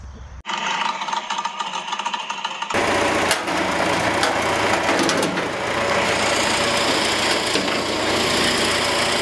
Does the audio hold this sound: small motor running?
yes